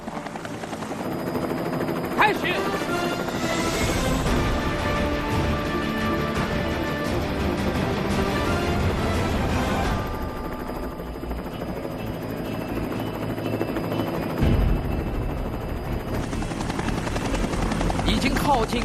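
A helicopter hovers loud and close with a steady rotor thrum and whine throughout a precision control challenge, while a voice briefly speaks over the engine noise.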